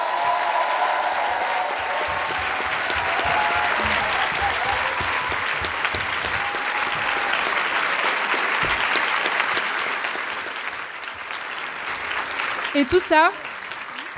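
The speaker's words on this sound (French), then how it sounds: "je pense qu'on peut les applaudir très fort" Strong crowd applause at a French political rally, sustained and loud for about ten seconds before fading, followed by someone speaking over the dying claps.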